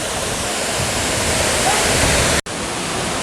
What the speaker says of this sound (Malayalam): കുറച്ചുകൂടെ വലിയ വെള്ളച്ചാട്ടമാണ് താഴെ വരുമ്പം കാണാനും കഴിയുന്നത്